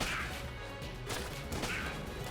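A weapon's explosion in the video game Enter the Gungeon hits a Mutant Bulletkin, heard as a loud, dense burst of noise with a sharp crash near the middle and a second swell near the end.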